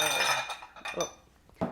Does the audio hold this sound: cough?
no